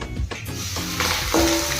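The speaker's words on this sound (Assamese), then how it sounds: "মাংস চ' এনেকৈ ভাজি ল'ব" Meat sizzles in a hot pan with scraping and stirring at uneven moments, heard up close at a moderate level.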